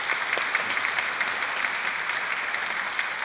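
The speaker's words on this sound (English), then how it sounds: "could you please join me in a round of applause for our mayor" Audience applause for the mayor at a community evening event, a steady wash of many hands clapping at moderate level for a few seconds with no talking over it.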